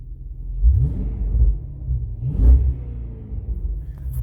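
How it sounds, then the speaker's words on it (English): A deep 5.7L V8 engine in a Dodge with a BBK throttle body idles close by with a low, lumpy rumble, rising briefly in a couple of gentle blips. "My car is idling where it was before. It sounds nice and smooth."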